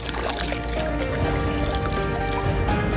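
Water trickling and dripping in a small spring-fed stream feeding the Aquidauana River, a close, steady liquid babble with bubbling splashes throughout and no talk.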